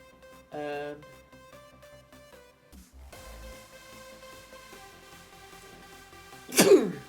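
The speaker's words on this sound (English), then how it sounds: "Oh, sneezing so much today." A single sharp sneeze bursts out near the end, loud and close, after soft background music and a brief vocal sound.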